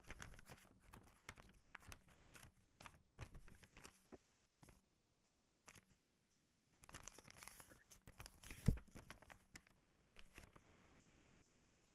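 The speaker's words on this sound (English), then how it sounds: "So let's start to do something with the paper." Paper is crumpled and torn by hand close to a microphone for animation sound effects, in scattered crackling bursts separated by short pauses, fairly quiet overall.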